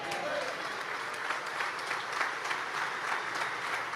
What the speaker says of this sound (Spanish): Sí, aplauda fuerte